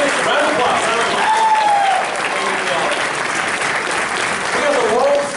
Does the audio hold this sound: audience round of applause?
yes